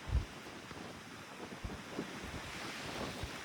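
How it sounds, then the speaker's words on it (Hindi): Strong wind buffets the microphone in low rumbling gusts, with a continuous rushing roar and no voices. "हवा बहुत तेज़ हवा चल रही है, बहुत तेज़ हवा"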